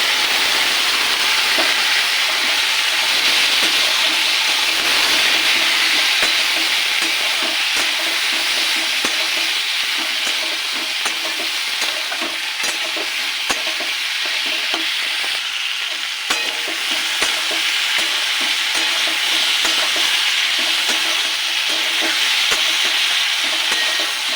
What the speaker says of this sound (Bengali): দেবো শিমটাকে হালকা একটু ভাজবো